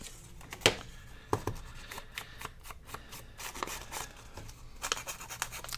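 Scissors cutting off the bottom of a handmade paper journal pocket: soft, close snipping and rustling paper, with a few sharper clicks of the blades spaced irregularly, no voices.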